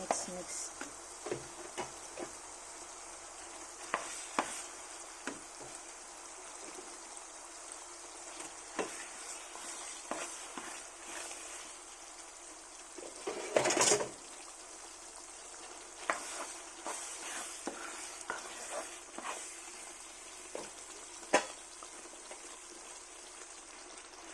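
Biko, a sticky rice cake mixture, is stirred in a pan over low heat, making a faint ongoing sizzle broken by scattered spatula scrapes and taps, with one louder burst midway and occasional quiet talk.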